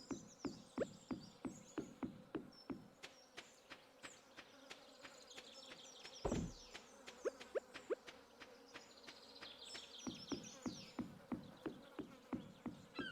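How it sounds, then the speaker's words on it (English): Fly buzzing as an ambient sound in the game Stardew Valley, faint and close, in rhythmic pulsing bursts over a quiet, chirpy background, with one low thud partway through. "Thought that fly buzzing noise was only when you were near Linus. Just an ambient noise that can spawn anywhere."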